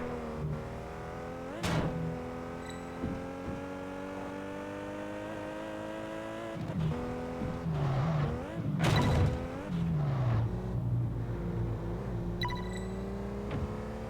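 A car engine in the video game Test Drive Unlimited 2 revs and drops repeatedly, with steady harmonic droning, a few sharp transient bursts and squeals, moderately loud and continuous.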